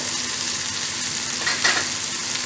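Slit green chillies are stirred into brinjal kuzhambu in a pan: a low, steady sizzle with a brief spoon scrape near the middle.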